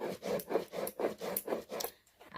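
Soaked atap rice is ground by hand with a steady back-and-forth rasping rub, about eight even strokes close up, then a brief pause at the end.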